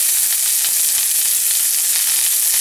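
Onions and anchovy fillets sautéing in a pan, a steady, loud hiss and crackle of hot oil that runs unbroken and close, with no voices.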